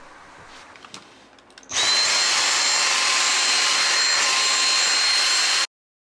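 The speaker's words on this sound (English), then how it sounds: "I like to hoover them to suck up as much dust as I possibly can" A vacuum cleaner hoovering along skirting boards starts abruptly and runs at a steady, loud, high-pitched whine for about four seconds before cutting off, after a few faint knocks.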